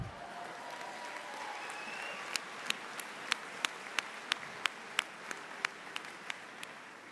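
Audience applause at a commencement ceremony: a soft, steady wash of clapping with a string of sharper, evenly spaced claps standing out through the middle and end.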